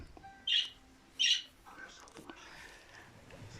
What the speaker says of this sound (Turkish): üç buçuk aylık erkek kuşum 5 tane yavru büyüttü